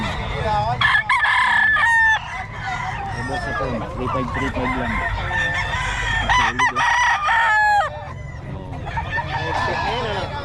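Roosters crow repeatedly and hens cluck throughout, loud and close, with people talking over the birds in the background.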